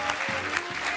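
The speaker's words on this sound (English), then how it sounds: "The crowd goes wild." A comedy-show crowd gives dense, continuous applause, loud and close, with a few low thumps mixed into the clapping.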